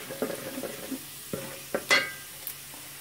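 Chicken and macaroni fry in a pan while a spoon stirs them, soft sizzling broken by a few sharp scraping clicks of metal on the pan and one louder stirring burst near the end.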